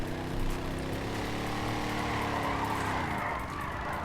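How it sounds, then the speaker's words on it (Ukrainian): Benefactor car in the video game GTA 5, a steady buzzing engine hum that holds fairly level and then drops away near the end, moderately loud, with no talk over it. "Звук як на запорожці."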